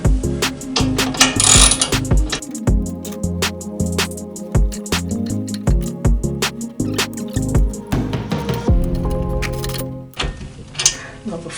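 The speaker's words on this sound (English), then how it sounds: "Alright, I got my ratchets." Ratchet wrench tightening bolts on a corner TV wall mount, a rapid run of close, loud ratcheting clicks in bursts across the whole span.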